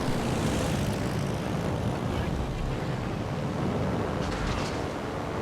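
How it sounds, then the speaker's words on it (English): Torpedo bombers taking off from a carrier in World of Warships Legends, a steady loud roar of propeller engines and rushing air that stays even throughout, with no speech. "Take back off here with torpedo bombers."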